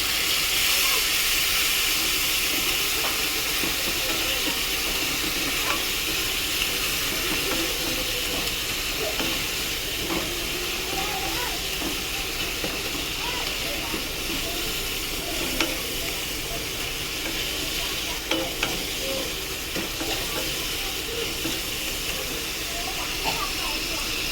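Chilli, turmeric and cumin powders with a splash of water sizzle and steam steadily in a hot pan for a fish and brinjal dish, a continuous close hiss with occasional stirring scrapes throughout.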